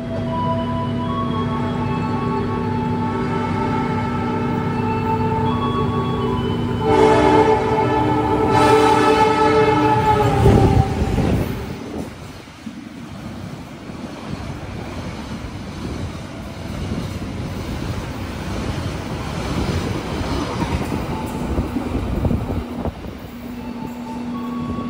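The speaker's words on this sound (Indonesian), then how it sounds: "Baru saja kereta api Purwojaya melintas langsung di stasiun Jatibarang." The Purwojaya passenger train passes straight through Jatibarang station in Indonesia, sounding loud horn blasts with a tonal drone, then a heavy rolling rumble of wheels and carriages that fades slightly before building again.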